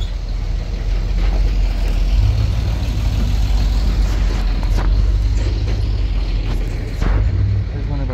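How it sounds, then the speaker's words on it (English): A truck rumbles past at a scrapyard with a car baler, a heavy low engine drone filling the clip with steady loud noise. "There's one of our trucks."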